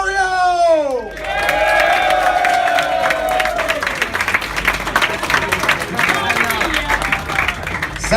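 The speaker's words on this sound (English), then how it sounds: "You guys give them a very big round of applause." A comedy roast crowd at a gaming convention erupts in sustained applause and cheering as Mario is welcomed onstage, clapping and whoops filling the room loudly for several seconds with excited shouts mixed in.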